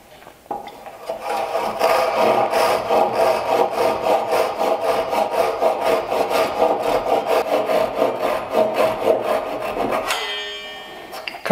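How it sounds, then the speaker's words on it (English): A hand saw cuts wooden tenons clamped in a vise, a steady back-and-forth rasping rhythm that runs loud and close for about ten seconds before stopping. "So I'll take it back to the vise and I'll complete the cuts."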